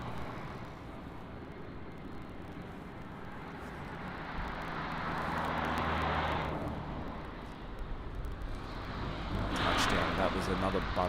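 A widebody airliner with GE90 engines lands at Paris CDG and applies reverse thrust, a broad distant engine roar that swells and ebbs, with people talking over it.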